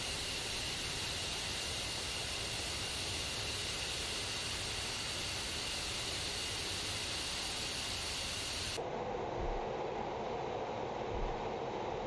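Simulated F-15E Strike Eagle jet taxiing in DCS World, a steady loud engine roar with a thin high whine that changes tone abruptly partway through, continuous with no talk.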